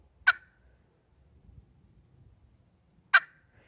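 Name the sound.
turkey cluck imitated with a turkey call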